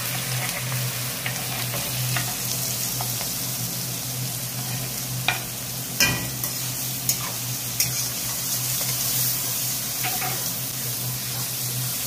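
Onions sizzle and fry in hot oil with whole spices such as dried chillies, bay leaves and cloves, a steady close crackle with occasional sharper pops and stirring clinks.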